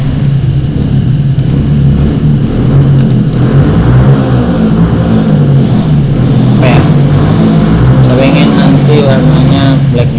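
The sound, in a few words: engine noise in the background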